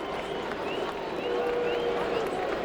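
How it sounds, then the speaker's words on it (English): A large crowd at a SkyDome baseball game between the Yankees and Blue Jays, a steady distant roar and murmur under a broadcaster's voice, with faint whistles rising over it. "Very big crowd here at Sky Dome."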